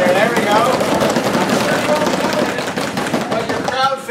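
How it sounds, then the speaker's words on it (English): A conference audience drums rapidly on tables or with their hands, a loud, dense and continuous patter that fills the room, with scattered voices and whoops mixed through it. "you guys do the traditional drum roll"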